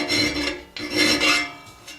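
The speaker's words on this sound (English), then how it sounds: "instead I just modified this chainsaw file," A modified chainsaw file rasps across mild steel in two firm strokes followed by a shorter third, each a loud, close, gritty scrape with brief pauses between them.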